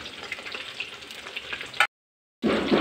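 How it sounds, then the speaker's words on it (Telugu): Fish fry in hot oil in a pan, a close, busy crackling sizzle that runs continuously, cuts out briefly and returns loud. "చేపలు వేగుతున్నాయి కదా"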